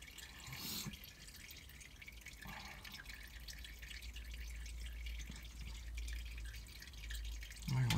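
Engine oil drains from a Subaru STI during an oil change, a faint steady trickle and drip under a low background hum, with a louder knock near the end.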